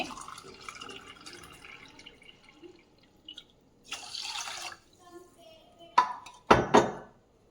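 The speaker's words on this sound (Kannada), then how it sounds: "ನಾನೀಗ 2 ಕಪ್ಪನ್ನು ನೀರು ಹಾಕ್ತಾ ಇದ್ದೀನಿ" Water pours into a pot of rice in a few short, close splashes and trickles, the last two louder, over a quiet kitchen background.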